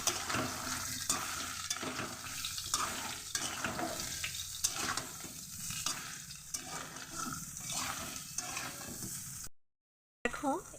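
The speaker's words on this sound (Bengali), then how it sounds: "এই সয়াবিনগুলো দিয়ে একটু ভেজে নেব" Continuous sizzling and frying of soybean chunks with rhythmic stirring scrapes in a pan, fairly close, no talking, ending in a brief silent gap.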